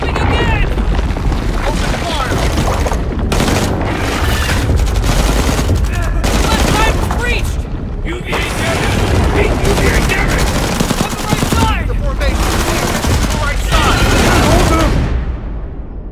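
Machine guns fire continuously in an action movie battle scene, loud dense bursts of gunfire and booms, with shouting voices mixed in.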